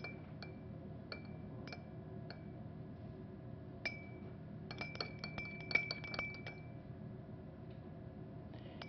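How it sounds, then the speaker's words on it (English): Crystals are stirred in a glass of solution, the spoon tapping and clinking against the glass in scattered bright ticks, sparse at first and then in a quicker cluster, close and fairly quiet. "And every time I stir them,"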